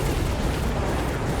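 Missile explosion in a video game, a dense, loud, sustained rumbling blast filling the whole short moment without any speech.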